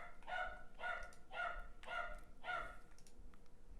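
A dog barks five times in an even rhythm, each bark sharp and moderately close, with quiet background between them.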